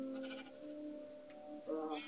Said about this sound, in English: we have pigs and sheep.